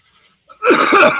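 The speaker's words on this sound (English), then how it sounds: "I just coughed." A single sharp cough bursts out after a brief quiet moment, loud and close.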